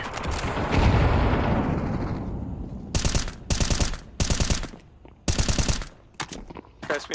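A grenade explosion rolls out as a deep rumble in a video game, followed by several sharp, loud bursts of gunfire separated by short gaps.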